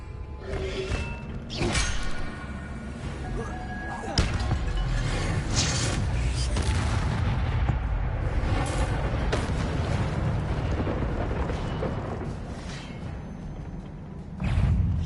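Booming, crackling magic blasts and impacts from spells cast in Hogwarts Legacy, loud and continuous with heavy low rumbles and sharp bursts layered over one another.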